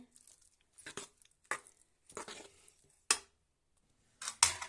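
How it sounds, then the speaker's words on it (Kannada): A spoon stirs a thick batter of soaked oats and rava in a bowl for soft oats idli, giving several separate scraping, sloshing strokes with short pauses, close and fairly quiet. "ಈಗ ಇದನ್ನ ಹಾಕಿ ಮಿಕ್ಸ್ ಮಾಡ್ತಾ ಇದ್ದೀನಿ"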